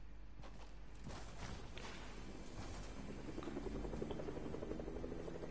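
A Fortnite helicopter drones steadily, with a low, continuous rotor rumble that grows slightly louder toward the end under faint game effects.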